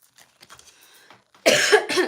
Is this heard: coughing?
yes